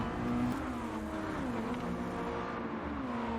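Race cars lap the Tsukuba circuit in Gran Turismo 7, a continuous whining engine note rising and falling with shifts and revs, with other cars nearby on track, steady and fairly quiet, no voices.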